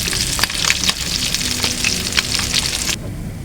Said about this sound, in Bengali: পেঁয়াজটা আমি একটু হালকা একটু এটার মধ্যে ভাজিয়ে নেব।